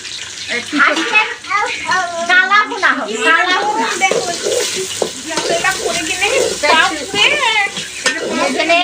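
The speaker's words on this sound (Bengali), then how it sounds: "মশলাটা লাল লাল করে ভাজা হয়ে গেছে" Onion and spices frying in oil in a pan and being stirred, a steady close sizzle with scraping strokes running throughout, while a person talks over it almost continuously.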